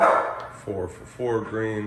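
A dog barks in three quick yapping bursts at close range while someone talks over an NBA 2K21 basketball game stream, the barks loud and separated by short pauses.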